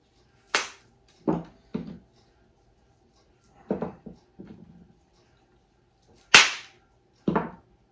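Sharp cracking and snapping sounds of venison sausage being broken up come in irregular bursts, some doubled, separated by quiet pauses, close and fairly crisp.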